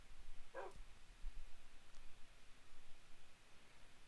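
A single short dog bark in a Minecraft mod, fairly faint and over soft background noise, with nothing else following.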